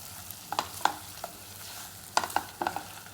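Egg yolks gently stirred through thick masala in a frying pan for egg chukka, giving a few soft scraping and clinking touches of a ladle in short clusters over a low background hum.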